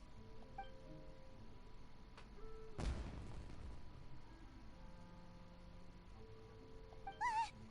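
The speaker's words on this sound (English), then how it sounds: "Was that an explosion? It sounded like fireworks." A single sharp firework blast bursts in Genshin Impact, a sudden loud crack that quickly decays over a quiet hum, followed later by brief high whistling tones.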